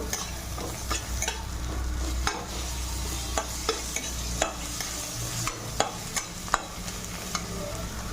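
Crushed garlic frying lightly in oil in a pan gives a steady low sizzle, with sharp clicks of a spatula stirring and scraping at irregular intervals throughout.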